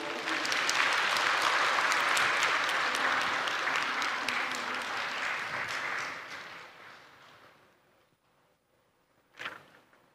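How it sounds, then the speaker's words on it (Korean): Congregation clapping in a church during a Sunday service, a dense steady round of applause that fades out after about six seconds, followed by near silence and a brief sharp knock near the end. "박수 한번 쳐주세요."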